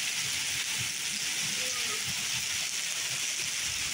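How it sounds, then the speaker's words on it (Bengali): Heavy downpour of rain, a dense, unbroken hiss that fills the whole stretch at constant loudness, with faint muffled voices buried underneath. "কি ভয়ঙ্কর বৃষ্টি।"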